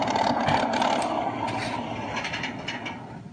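Electronic sound unit SC0001 fitted to a 1/35 scale model tank, playing a simulated engine shutdown: a close mechanical rumble that gradually winds down and fades, with no talking.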